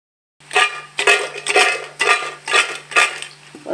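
Tapioca chips tossed and mixed in a bowl, making rhythmic rattling and clinking bursts about every half second, close and fairly loud.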